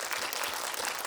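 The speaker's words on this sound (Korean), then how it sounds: "박수 한번 부탁드립니다" Short, steady round of audience applause in a cinema during a post-screening Q&A with the cast and director at CGV Wangsimni. The clapping is close and even, with no talking over it.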